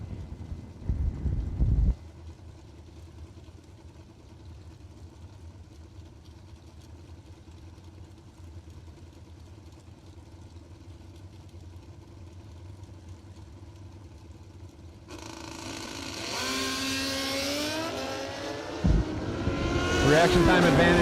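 A drag racing motorcycle at a Christmas bracket race sits in a low, rumbling idle, then revs hard and accelerates with sharply climbing pitch, growing loud toward the end while an announcer talks over it.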